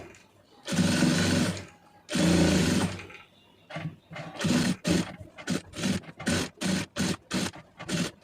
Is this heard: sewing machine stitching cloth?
yes